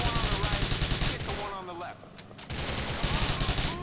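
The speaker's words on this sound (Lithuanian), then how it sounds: "Čia tokie laimingi rusai šaudo" Rapid bursts of automatic gunfire from Russian gunmen in the video game GTA IV, loud dense volleys that pause briefly midway and resume, with someone speaking over them.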